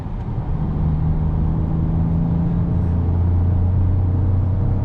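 A 2022 Peugeot 2008 driven in sport mode, heard from inside the cabin as a steady, close engine drone with low rumbling road noise and no talking.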